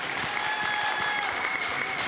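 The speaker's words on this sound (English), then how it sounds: "Give Benita a round of applause for a live taping today" Audience applause at a live taping of an independent-artist talk show, a steady dense wash of clapping throughout with a faint tonal hum running beneath it.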